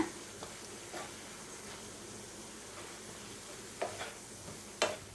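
Toasted bread tossed with masala in a pan for chilli bread gives a soft, continuous sizzle, with a few faint clicks of the spoon against the pan.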